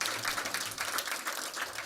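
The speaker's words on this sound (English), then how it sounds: "We can clap for him." An audience at a SB Unified school board meeting claps briefly, a dense, moderately loud wash of applause that lasts under two seconds.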